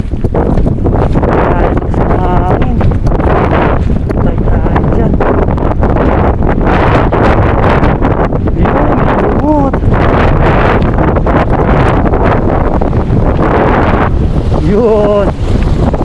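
Strong wind buffets the microphone with a constant roaring rumble, outdoors near water at a fishing spot, with voices talking intermittently underneath.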